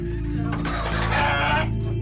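Rescued chickens, many in poor and thin condition, cluck and call up close, with a rooster-like crow rising briefly amid the steady fowl chatter.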